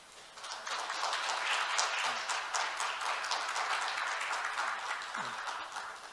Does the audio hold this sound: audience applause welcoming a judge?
yes